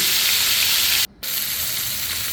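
Pieces of koi fish sizzle in oil in a frying pan, a steady close hiss broken by a brief silent gap partway through.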